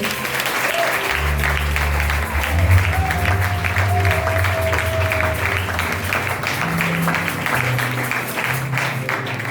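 A church congregation at a New Year's Eve service claps loudly and continuously, with shouted acclamations and voices rising over the applause and low instrumental tones humming underneath.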